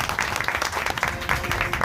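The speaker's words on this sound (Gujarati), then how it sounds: "ખરેખર એમના માટે જોરદાર તાળી" Applause from a crowd at a devotional satsang bhajan gathering, dense continuous clapping close and loud for the whole stretch, mixed with some voices.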